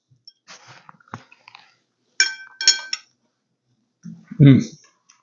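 A fork clinks and scrapes on a plate while slow cooked pork with gravy is eaten, a few short bright clinks in quiet surroundings, with some soft speech and chewing sounds between them.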